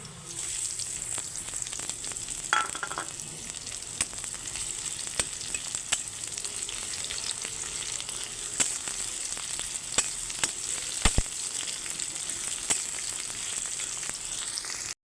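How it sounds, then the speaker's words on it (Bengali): Chopped onion fries in hot oil along with garlic and dried chillies, a constant close sizzle dotted with small pops and a few sharp clicks from stirring, steady throughout with no voices. "এখন পেঁয়াজটা একটু ভাজা ভাজা হয়ে গেছে"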